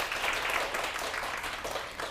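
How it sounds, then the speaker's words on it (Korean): Audience applause at a Korean lecture show where a coffee company founder speaks: steady, dense clapping from a sizable crowd held at an even level for about two seconds, with no talk over it. "박수 한번 주시겠어요?"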